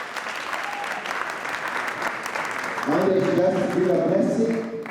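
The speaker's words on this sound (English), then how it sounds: "Can we clap hands for my wife?" An audience at a church wedding anniversary service bursts into loud, sustained hand clapping. A voice speaks over the start, and the applause swells and carries on to the end.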